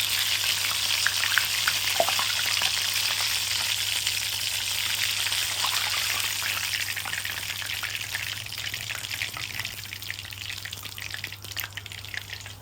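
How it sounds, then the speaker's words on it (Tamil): Chicken doughnuts deep-frying in oil over a medium flame, a continuous fine crackle and bubbling hiss, close and moderately loud, steady for the whole stretch with no talk. "மீடியம் ஃப்ளேம்ல நல்லா ஃப்ரை பண்ணி எடுத்துக்கலாம்"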